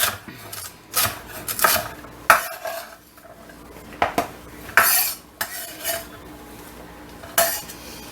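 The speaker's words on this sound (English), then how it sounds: "And it's always best to chop with a sharp knife." Celery is chopped with a sharp knife on a cutting board, about a dozen crisp, uneven knife strikes and scraping slices, close and fairly loud with no talking.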